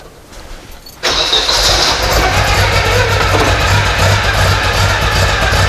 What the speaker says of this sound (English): So let's just fire up the engine.